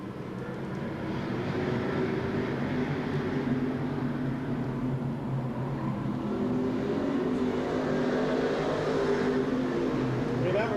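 Late-1990s weekly short-track race cars at Seekonk Speedway roar down into turn one, a loud, sustained multi-engine drone that swells and shifts in pitch as the pack passes.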